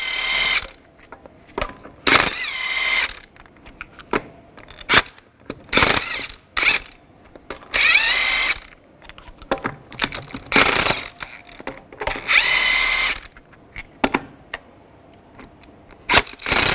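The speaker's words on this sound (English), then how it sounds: "take the lug nuts off." A power tool spins lug nuts off a 2010-2017 Chevrolet Equinox wheel with a 22 mm socket, in a series of loud, sharp bursts separated by short pauses and clanks.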